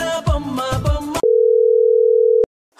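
A single steady telephone tone sounds while a call is being dialed. It follows a brief burst of music and ends in a click, with no talking over it.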